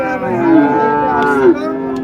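A cow moos loudly and close at a rural cattle market, one long sustained low call with a rising bend, nearly free of speech.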